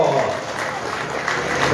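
A crowd claps steadily at a motocross press conference, a dense, continuous patter of applause with a voice talking over it.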